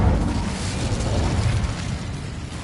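Incendio fire spell cast in Hogwarts Legacy, a loud whooshing roar of flame with a deep rumbling body that holds steady, then eases slightly over a few seconds, with no talking.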